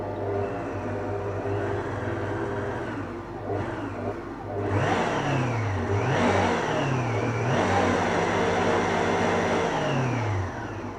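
An electric mixer beating eggs for a peach sponge cake, starting slowly and then speeding up, giving a steady close whirring drone that rises and shifts in pitch as the beaters change speed, with no talking.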